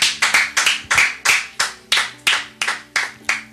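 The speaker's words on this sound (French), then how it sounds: "Acclamons, acclamons pour le nom de Jésus-Christ" A church congregation claps in praise of the name of Jesus Christ, with about a dozen sharp, evenly spaced claps ringing out in a brisk, rhythmic beat close by, with no talk.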